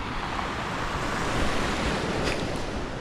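Sea waves wash onto a beach in a continuous, even surf roar with some wind noise on the microphone, fairly soft and with no voices.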